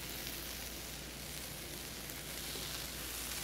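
Onions frying in a pan until nicely browned, giving a steady, dense sizzle that holds level throughout without a break and with no voices.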